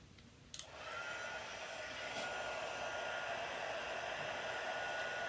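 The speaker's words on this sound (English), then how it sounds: "let's hit this up with the heat tool" A crafting heat tool switches on with a click and blows hot air, a loud, steady whooshing hum that holds close and constant to the end.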